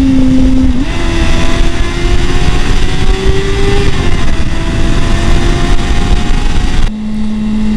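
Suzuki GSR400 motorcycle engine revving loud and close inside a tunnel, pitch rising and falling as it downshifts, with a sharp blip near the end; no talking.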